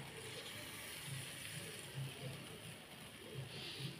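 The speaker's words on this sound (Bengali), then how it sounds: "এবার ঝোলের পানিটা দিয়ে দিলাম।" Water for a beef curry poured into the pot on a clay stove, a soft continuous gushing and bubbling hiss, fairly faint and steady throughout.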